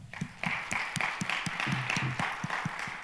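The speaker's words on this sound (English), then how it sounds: "Let's give him another round of applause." Applause rises from the audience at a college convocation, a quiet, thin patter of clapping with distinct individual claps spaced through a few seconds.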